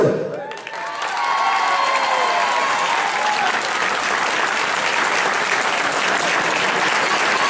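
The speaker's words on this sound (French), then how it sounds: "On peut applaudir les trois reprises de Cyril et de Florian." Loud, sustained applause from a crowd at a boxing gala in Dieppe, steady clapping filling the hall after a fight's result is announced, with a few faint cheers mixed in.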